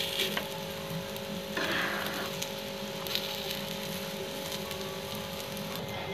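Pea kebabs frying in a pan of oil while being turned over, a steady soft sizzle with a brief louder crackle burst near the middle.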